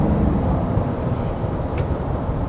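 A Kia Mohave SUV's diesel engine cruising at night, a steady low drone with road and wind noise filling the cabin, even and unbroken with no talking.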